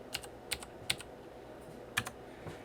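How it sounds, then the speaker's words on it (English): Keys on a computer keyboard tapped while a password is entered on a Netgear router page: about eight quiet, close clicks in short irregular bursts over a faint room hush. "you can type a new password here"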